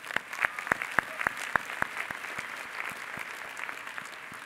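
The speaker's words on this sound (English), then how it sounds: "that deserves a round of applause" Audience at the 2018 Issaquah High School graduation applauding, with distinct sharp claps near and scattered over a softer, distant crowd clapping that gradually thins out.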